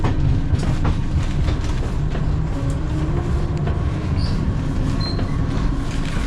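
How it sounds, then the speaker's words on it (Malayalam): A crowded passenger train traveling from Kerala toward Araku Valley rumbles along, heard from inside the carriage as a loud, steady low roar with repeated rhythmic clacks of the wheels over rail joints. "നമ്മൾ ട്രെയിനിൽ ഇരിക്കുകയാണ് ഗൈസ്"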